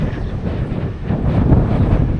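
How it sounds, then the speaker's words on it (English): Strong wind buffets a microphone outdoors at a rural building site, a loud, continuous low rumble that swells slightly toward the end with no voices. "Ooh, it's windy."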